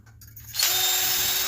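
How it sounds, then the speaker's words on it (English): A power drill fitted with an inside pipe cutter spins up after a short quiet moment and then runs at a steady, loud, high whine close by, with no talking. "Then you throw it on your drill."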